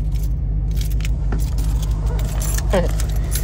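Red key for a Dodge Challenger Hellcat jangling close by, bright metallic clinks over the low steady rumble of the idling car, with a brief scrape near the end.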